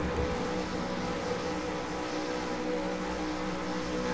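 V8 Supercar engines in the iRacing game sit on the starting grid at Lime Rock, a dense, steady drone of many motors with the revs building, loud and continuous.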